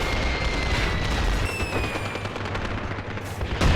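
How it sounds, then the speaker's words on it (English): Mortar fire in the World War II game Graviteam: Fateful Strike, a dense continuous rumble of distant impacts and gunfire with a sharp burst near the end. "See those mortars finally going off, decimating them."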